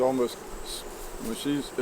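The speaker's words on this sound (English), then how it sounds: "When there's a bunch of bees on a frame moving around" Honeybees crowding and moving over a hive frame, a close, wavering buzz with short louder swells as individual bees pass near.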